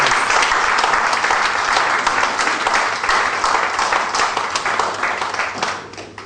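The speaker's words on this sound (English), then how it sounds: "Please give him a round of applause." An audience at a Heritage Food House event bursts into loud, sustained applause, a thick wash of clapping that holds steady and then begins to thin out toward the end.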